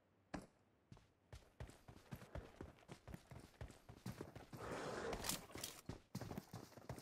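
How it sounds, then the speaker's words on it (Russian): Footsteps in the game PUBG Metro Royale thud in a steady, fairly loud walking rhythm, with louder game noise rising partway through. "Здесь я услышал шаги и обосрался."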